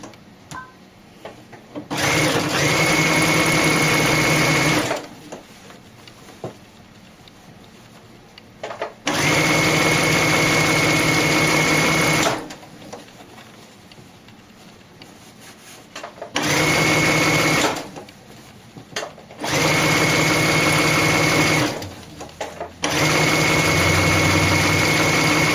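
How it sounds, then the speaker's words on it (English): Sewing machine stitching around the hem of a doll dress, loud close whirring runs of several seconds each, five bursts separated by short quiet pauses as the fabric is turned. "Fold it up about 1/2 inch. And sew it all the way around."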